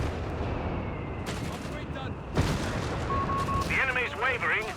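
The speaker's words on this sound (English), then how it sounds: "direct shot there by the Bishop, ripping through the Italian squads here" Artillery fire from a Bishop self-propelled gun in Company of Heroes 3, loud booming blasts and battle noise mixed with gunfire under a commentator's voice.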